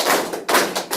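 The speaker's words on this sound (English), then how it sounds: "We're going to clap 9 times." Hands clapping during a qigong exercise to activate the heart points, three sharp close claps at a steady, even pace, with no talking.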